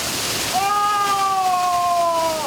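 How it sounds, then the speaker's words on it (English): Waterfall in Papua New Guinea, a steady broadband roar of falling water filling the whole clip, with a clear whistle-like tonal sound layered over it partway through. "And look at this waterfall."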